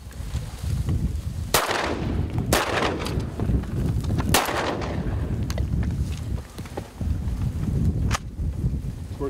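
Several sharp shotgun blasts ring out at uneven intervals during a South Dakota duck hunt, loud and close over a rough outdoor background.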